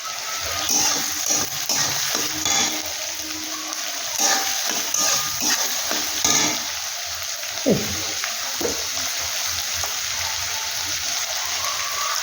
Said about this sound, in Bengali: সামান্য একটু ঘিরিয়ে দিচ্ছি এতে দারুণ লাগবে চিকেনটা